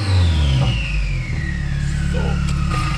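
A Subaru engine with transmission problems revving up close, the pitch climbing and then easing back into a rough, steady rumble.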